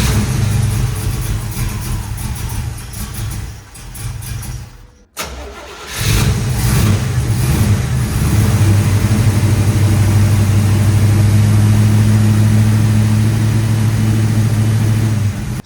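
An old split bumper Camaro engine cranks briefly, cuts out for a moment, then catches and settles into a loud, steady rough idle, close up and alone.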